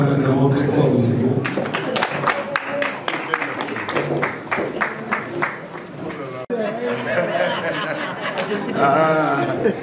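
Wedding congregation acclaiming the Lord during a religious marriage ceremony: a dense, lively mix of cheering voices, chatter and scattered clapping that runs throughout, briefly dipping near the middle before swelling again.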